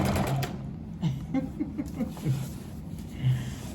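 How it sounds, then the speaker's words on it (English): A sewing machine shakes and rattles in its case while a multicolored blanket is being sewn, giving irregular clattering knocks and rattles that repeat close up, with no talking. "That's the sewing machine shaking y'all up out the case."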